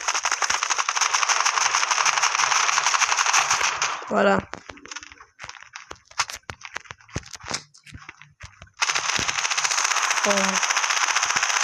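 Sustained bursts of rapid gunfire from the mobile shooter Standoff 2 fill the first four seconds and return near the end. A quieter stretch between them holds scattered shots and brief exclamations from a player.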